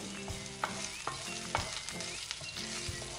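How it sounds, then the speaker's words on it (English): Crushed ginger and garlic sautéing in oil on a low flame, a gentle close sizzle with a few spaced spatula taps and scrapes, and no speech. "Next I am going to add the crushed ginger garlic. Keep the flame low."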